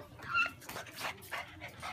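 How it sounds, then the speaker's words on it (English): A dog begging for food gives a few soft whimpers and yips, with breathy snuffling in between, close by and fairly quiet. "And this dog wants food."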